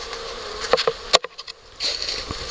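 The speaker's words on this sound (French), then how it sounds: "Et on voit bien les abeilles pour l'instant qui montent sur la paroi." A honeybee swarm buzzes inside a Warré hive with a glass rear panel, a steady close hum broken by a few brief louder buzzes as individual bees pass near, with no talking.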